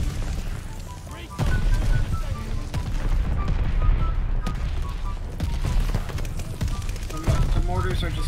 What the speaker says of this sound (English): The mortars are just kicking my ass right now.